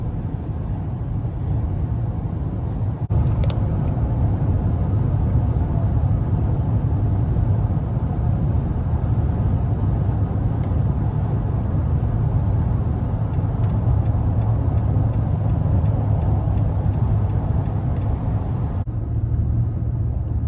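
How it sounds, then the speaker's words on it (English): A 2021 Nissan Titan Platinum Reserve pickup truck accelerates, heard from inside the cab as a steady low engine rumble and road roar that holds loud and even throughout. "I really like the low end power that you get from the Titan when you're accelerating."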